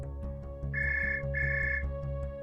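A mobile phone rings with two bright beeping bursts in quick succession over a steady musical background, clear and moderately close.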